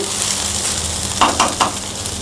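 Rice is stir-fried in a wide pan over a constant sizzle, with three quick scrapes of a spatula standing out near the end, close and loud, and no talking.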